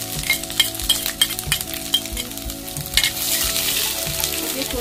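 Ginger and garlic fry in a pan with a steady, loud sizzle, punctuated by regular scraping and knocking of a stirring spoon against the pan.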